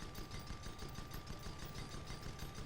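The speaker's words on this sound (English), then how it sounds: "Just take another Hwacha barrage." A Hwacha barrage fires in a video game as a dense, rapid crackle of many small launches that rattles on continuously at moderate volume, like a long burst of machine-gun fire.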